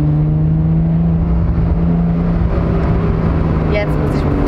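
A Lotus Exige sports car accelerating on a race track, heard from inside as a loud, steady engine drone that holds without a break throughout.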